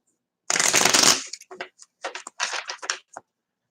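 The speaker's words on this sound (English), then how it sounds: "I'm gonna shuffle it." A well-used deck of playing cards being shuffled by hand: one loud, dense riffle lasting about half a second, followed by several shorter, quieter bursts of cards being squared and flicked close by.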